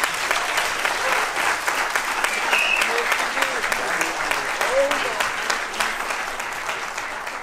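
Sustained, dense applause from a full audience at a 2019 cinema film premiere in an indoor movie theater, loud and steady throughout with a few scattered whoops.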